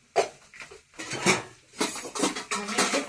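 Steel utensils and pots clattering in a home kitchen while lunch of potato and fenugreek cooks, with several sharp clinks and scrapes in irregular bursts, close and fairly loud.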